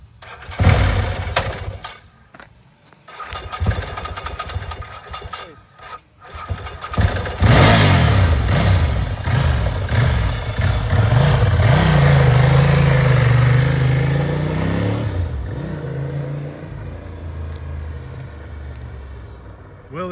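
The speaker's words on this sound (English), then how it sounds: "starting up the bike with the dry clutch, the typical Ducati sound" A 1993 Ducati 888 Strada with a dry clutch is started and brought to life after several starter bursts and rattles. It settles into a loud, close, rising and falling rev, then idles before the engine cuts.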